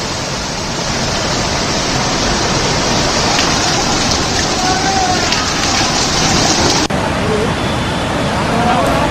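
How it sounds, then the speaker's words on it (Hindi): Floodwater in Junagadh, India, pours down like a waterfall after heavy rain, a loud, unbroken roar of rushing water that stays close and constant throughout. "इन तस्वीरों में आप देखिए कैसे बाढ़ का पानी झरने की शक्ल ले चुका है।"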